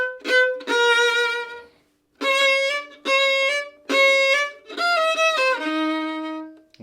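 Solo violin plays the opening four measures of Bolzoni's Minuetto, clean deliberate bowed notes in short phrases separated by brief pauses, close and clear with no talking.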